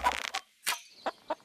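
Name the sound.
chicken clucking in video game Winds of Valen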